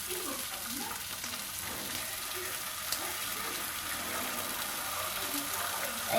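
Bacon and eggs fry together in a pan with a soft, steady sizzle and small popping crackles, heard up close but quietly and with no talking.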